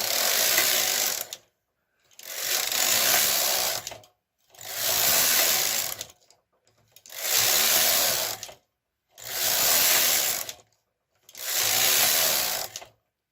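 A knitting machine carriage sweeps back and forth knitting rows of a sweater sleeve, six even whirring, rattling passes of about a second and a half each, separated by short silent pauses, close and steady.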